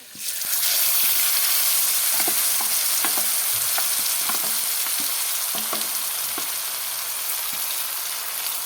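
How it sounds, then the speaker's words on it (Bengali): Fish fries in hot oil in a wok with a loud, continuous sizzle, broken by scattered spatula taps and scrapes throughout. "এখন দিয়ে দিব কড়াইতে মাছে ভাজার জন্য তেল দিয়ে দিলাম"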